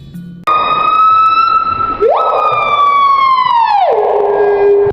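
A starling mimics a police siren with a loud, clear, close wail that sweeps up and then slides down, rich in harmonics, heard alone without talk.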